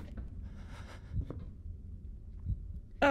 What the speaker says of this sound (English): Why do I hear my heartbeat?